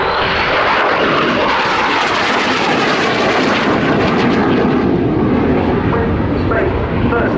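Spanish Navy EAV-8B Harrier II jet flying a display at the RIAT 2024 air show, a loud, close, continuous roar filling the whole stretch, with a voice faintly beneath it.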